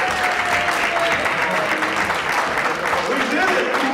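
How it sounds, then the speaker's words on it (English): A crowd at a motivational speaking event applauds, giving a loud, steady, dense burst of clapping throughout with no voices over it. "give yourselves a round of applause"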